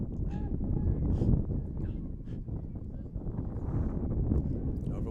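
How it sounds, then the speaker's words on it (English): A strong gust of wind buffets the microphone at an outdoor high school varsity boys lacrosse game, a steady low roaring rumble that swells and eases, with voices faint underneath. "What a big gust of wind up here now."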